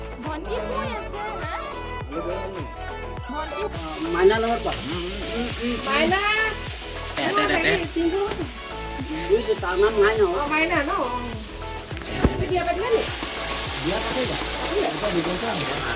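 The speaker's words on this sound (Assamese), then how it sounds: "পেটু ভাজি বহাইছেহে হয় নাই?" Steady sizzling of fish belly frying in a pan, with voices and music over it throughout.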